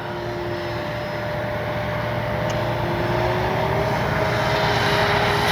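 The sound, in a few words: FMS Ranger 1220mm RC trainer airplane at full throttle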